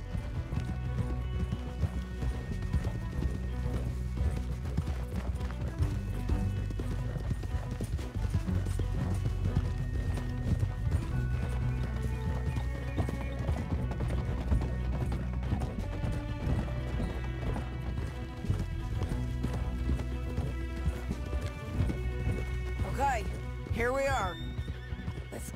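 Horse hooves pound in a continuous rhythm in Red Dead Redemption 2, with whinnies and a steady musical score layered over the galloping.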